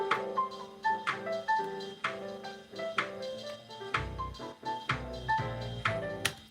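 Jazz piano phrase with a band-limited, thin tone, its lows and highs filtered away so it sounds like an old radio; chords and runs play steadily at moderate level with no talking.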